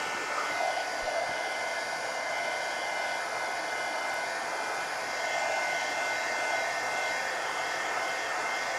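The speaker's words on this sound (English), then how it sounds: "let me go ahead and hit it with the heat gun" A heat gun blows steadily over a freshly painted sketch of a pug and giraffe, a continuous, even broadband whoosh held close and constant throughout with no talking.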